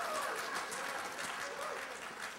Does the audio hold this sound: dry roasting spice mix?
no